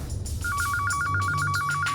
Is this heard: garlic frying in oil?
no